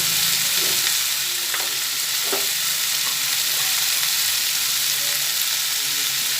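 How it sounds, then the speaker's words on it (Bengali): Elephant foot yam and potato curry fries in a pan with a constant hissing sizzle. A spoon stirs it now and then, making occasional soft scrapes and taps. Nobody speaks. "আবার ভালোভাবে এরপরে নাড়াচাড়া করে নিচ্ছি"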